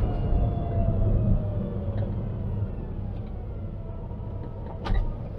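Small Citroen AMI electric car whirring steadily while driving, a continuous low hum and road rumble with a brief louder swell near the end.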